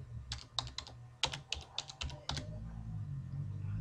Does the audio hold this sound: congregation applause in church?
no